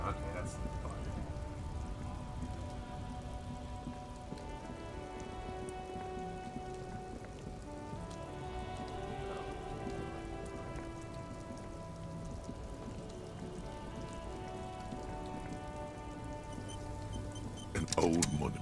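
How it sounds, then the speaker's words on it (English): Rain falling in the video game Disco Elysium, a steady soft hiss of drops on surfaces mixed with low game music, continuous and moderately faint, ending with a brief louder clatter. "Oh, it's raining now."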